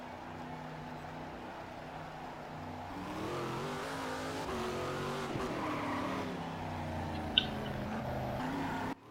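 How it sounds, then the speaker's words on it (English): A race car in a sim racing game circuit at Velopark, its engine droning steadily then revving and rising through gears, with tire squeal and a sharp click near the end, loud and alone. "one of the Sega cars is already out there, which was Andrew Jones"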